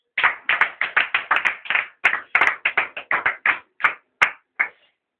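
A church congregation applauds in quick, rhythmic bursts of clapping, about twenty sharp claps with short gaps, loud and close, with no voices over them.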